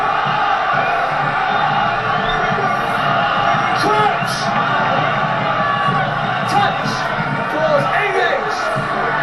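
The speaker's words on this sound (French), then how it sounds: "entendez la foule du Connard qui hurle pour donner la force" Connacht rugby supporters yell and roar in a dense, continuous crowd din during a scrum against Toulon, with sharp whoops rising above, under a commentator's voice.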